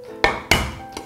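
Two sharp, heavy thwacks of a knife smashing peeled river shrimp meat flat on a cutting board, close and loud, followed by a softer third knock.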